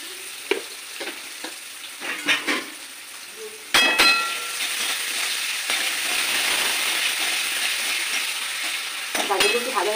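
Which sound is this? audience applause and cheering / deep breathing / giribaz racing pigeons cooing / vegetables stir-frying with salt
vegetables stir-frying with salt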